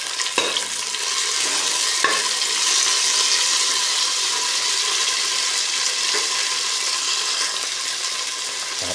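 Tomatoes sizzle in a hot pan with onion and garlic, a steady close frying hiss with soft stirring scrapes at intervals and no talk.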